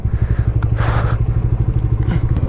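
A motorbike runs without luggage or tail bag on a mountain road toward Gangotri, its engine thumping in a steady loud low pulse with rattling and wind noise over it.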